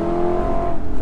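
Lexus LC 500 Convertible engine and exhaust heard in a short burst, a steady loud droning note with strong low harmonics, close and unbroken, with no talking.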